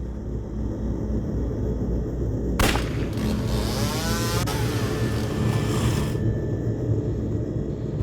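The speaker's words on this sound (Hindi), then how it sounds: "यहाँ से एक बाइक स्पीड से गई, लगता है साइलेंसर फट गया होगा उसका" A motorcycle with a burst silencer roars past close by over steady background rumble, its engine rising and falling as it speeds through, backfiring.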